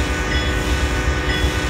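Locomotive sound from a GE P40DC in Amtrak Phase III livery on the Arizona Divide in Train Simulator Classic, a loud steady rumble of the running train with a continuous horn-like tone layered over it.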